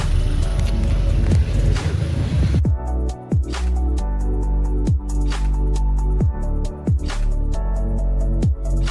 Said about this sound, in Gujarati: હાલો આ ભાઈની ગાડી હવે થઈ ગઈ ચાલુ